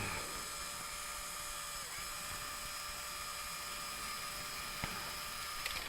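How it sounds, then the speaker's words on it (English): A powered screwdriver whirs steadily as it backs screws out of the lower links on a TRX4 radio-control truck, a thin continuous high-pitched whine with a brief click near the end, with no voices. "the powered screwdriver definitely comes in handy for this."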